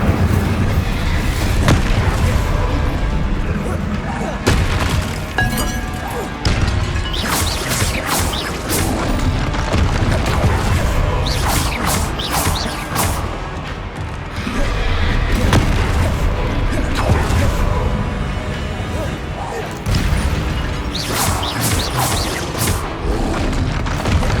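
Confringo blasting spells and other spell combat in Hogwarts Legacy, a dense run of booming explosions and crashing impacts over a continuous game soundtrack, with a voice calling spell names throughout.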